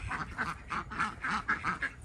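Ducks being let out of their pen quack in a rapid run of about ten loud, nasal calls close by, with no talking over them.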